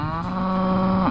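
A dairy cow, one of a 350-head herd on a drought-hit desert farm, gives a single long, loud, close moo that holds steady before rising at the end.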